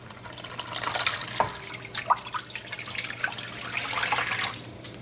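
Water pours into a frying pan with sugar on a high gas flame, giving a splashing, trickling stream with a few drips and gurgles that rise and fall over several seconds.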